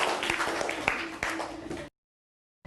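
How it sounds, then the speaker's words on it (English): Children in a classroom clapping together, a brief burst of uneven hand claps with some voices mixed in, cutting off abruptly into silence. "Clap for everybody."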